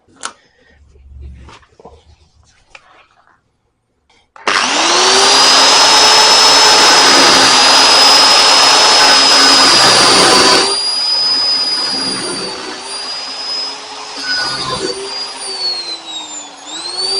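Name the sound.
power tool cutting off a welded steel roll cage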